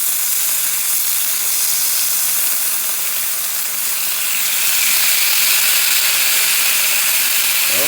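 Chicken sizzling on a grill as it is flipped, a loud close hiss that holds steady and swells slightly toward the end, with no talk.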